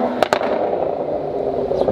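Two sharp firecracker bangs go off in quick succession early on outdoors, fairly close, over a steady background murmur with voices.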